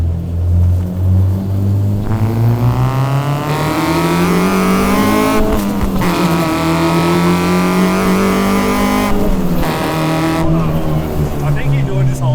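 A K-swapped Honda Civic EG engine revs hard and climbs into VTEC on a mountain road, loud and close, the pitch rising and falling through repeated pulls while people talk over it.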